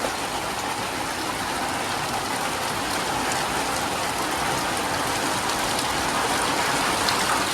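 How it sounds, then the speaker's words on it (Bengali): Steady rain pours down in a light storm, a dense even hiss with scattered drop patter, loud and unbroken throughout with no talk. "তো আজকে একটু ঝড়ও আছে বৃষ্টির সাথে"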